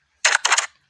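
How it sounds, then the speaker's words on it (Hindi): A short keyboard typing sound effect: two quick bursts of dense clicking, close and crisp, each lasting about a fifth of a second, with a brief gap between them and nothing heard afterward. "मेरे पास सामने आता है कीबोर्ड टाइपिंग। आप इसको प्ले करके सुन सकते हैं किस तरह की इसकी आवाज़ है"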